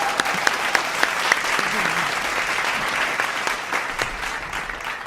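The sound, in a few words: audience applause for graduating eighth graders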